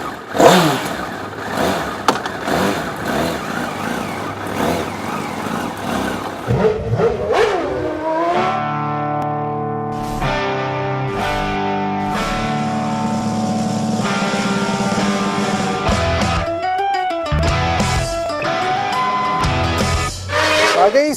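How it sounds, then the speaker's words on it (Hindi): A Honda CBR 1000RR superbike on a test ride revs hard, its engine climbing through gears with rising whines and shift drops, loud and close, while a voice talks over parts of it. "छोटी सी टेस्ट राइड लेने के लिए होंडा CBR 1000RR की"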